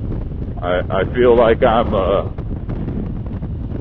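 Steady low wind rumble buffets the microphone on a 2021 Harley-Davidson Road Glide Special cruising the highway on a windy day, while a rider talks over it throughout.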